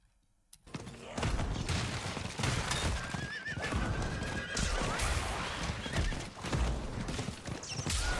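Horse neighing and hoofbeats from Diablo 4 in a game setting, a loud whinny rising after a brief quiet start, followed by steady clip-clopping hooves and busy game sounds throughout.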